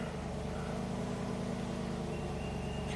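Cadillac Allante with a Northstar V8 idling after a restart, a steady low engine drone with an even rumble, close and continuous throughout.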